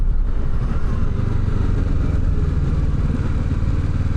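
Kawasaki Ninja 650 motorcycle, a 2025 model, ridden in fourth gear at around 30 mph, gives a steady, loud low engine drone with wind rumble throughout, no change in pitch or revving.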